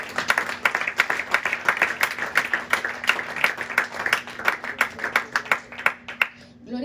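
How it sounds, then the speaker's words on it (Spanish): A church congregation at a Pentecostal service claps for the Lord, a rhythmic burst of hand claps at a steady beat for about six seconds, with a low sustained tone beneath and a voice rising at the end. "Denle un aplauso fuerte al Señor."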